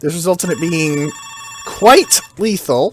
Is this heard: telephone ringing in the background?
yes